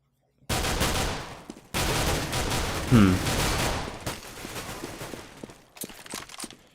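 Counter-Strike: Global Offensive gunfire crackles in loud, rapid bursts of automatic shots, with short gaps of silence between volleys and a few softer sounds trailing at the end.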